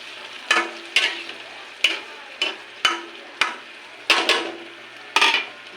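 Repeated metallic scraping and clanks of a utensil stirring canned sardines in a pan, about eight irregular strokes over a quiet background hiss.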